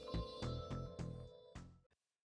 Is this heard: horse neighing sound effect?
no